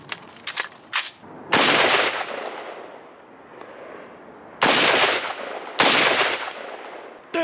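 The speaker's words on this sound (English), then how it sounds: "pistol rounds didn't work, so we're gonna ramp it up to 223" Rifle shots in .223 caliber fired at body armor outdoors: a few sharp, loud cracks with long ringing decay, spaced several seconds apart, alone with no talk.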